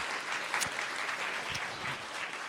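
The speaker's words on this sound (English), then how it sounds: "How about a nice round of applause for Dr." A science-café audience gives Dr. Reide Corbett a round of applause, a steady, moderately distant patter of many hands continuing throughout.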